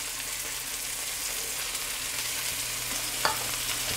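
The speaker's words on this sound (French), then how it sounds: "OK, on va faire sauter les champignons." Mushrooms and onions sauté in a pan, giving a steady soft sizzle with a brief sharper clink of a utensil near the end and no talking.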